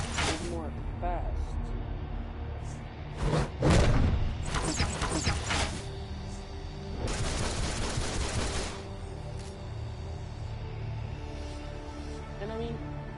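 Rapid rifle gunfire in the DC Universe game, shown with Red Hood, bursts of repeated shots with heavier hits near the start and a sustained volley midway, all under game music and someone talking throughout.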